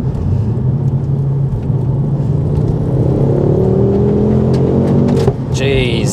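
A Mountune MR375 Mk2 Ford Focus RS engine pulls hard from low revs, a loud steady rumble that climbs in pitch as the car accelerates, heard from inside the cabin.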